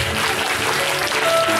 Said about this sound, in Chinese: 非常谢谢各位帅哥美女们的掌声